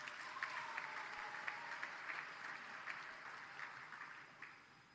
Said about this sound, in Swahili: Niwapongeze tena, tupigiane makofi.